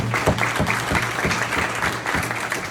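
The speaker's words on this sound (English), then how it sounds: "Give yourselves a big round of applause for that." Guests at an annual community dinner give a round of applause, a continuous burst of many hands clapping at a lively, even intensity throughout.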